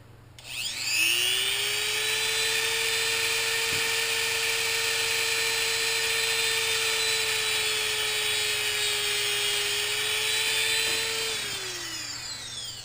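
A loud, steady high-pitched whine from a small rotary tool cutting through a metal shaft on a radio-controlled helicopter, holding one pitch for about ten seconds before spinning down.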